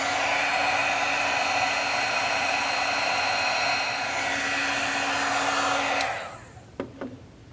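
An embossing heat tool blows steadily and loudly as it melts embossing powder from underneath, then cuts off, leaving a couple of small clicks and taps.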